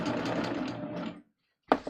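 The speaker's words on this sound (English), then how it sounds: "as I start serging, I want to make sure that that fabric is against the knife" Serger (overlock machine) stitching fabric, a rapid close mechanical whirr running for just over a second, then silence, then a brief restart burst.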